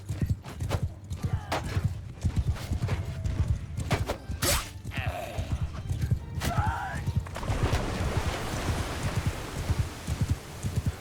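In the video game Mount & Blade II: Bannerlord, rapid hoofbeats of galloping horses thunder through a busy battle soundscape, with a brief whinny rising midway and a steady din underneath.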